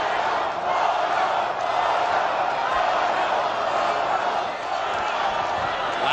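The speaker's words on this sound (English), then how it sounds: "Latin American segment of the crowd chanting Goyo, Goyo, Goyo." A large boxing-match crowd roars in a dense, continuous wall of sound, with a Latin American section chanting for the fighter, while commentary runs faintly underneath.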